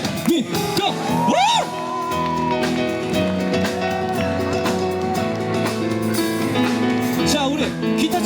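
A crowd whooping and cheering at a live church youth event, with a loud rising shout, over live band music playing steadily.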